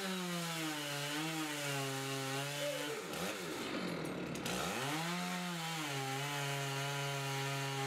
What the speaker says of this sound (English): Handling a chainsaw, especially with trees of this magnitude, demands exceptional skill and focus.